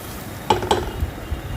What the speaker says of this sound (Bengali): ফুলকপিটাকে ভালো করে নেড়ে ছেড়ে একদম শুকনো শুকনো করে লাল লাল করে ভেজে নিতে হবে।